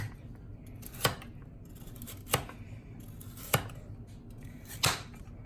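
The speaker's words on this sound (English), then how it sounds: "cut them like this, a little slanted" A knife slices carrots at a slant on a cutting board, four crisp evenly spaced chops about a second apart over a quiet kitchen background, with no talk.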